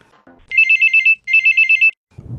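A telephone rings for a call to a radio phone-in programme, sounding two loud bursts of rapid electronic trills separated by a short gap, heard alone and close.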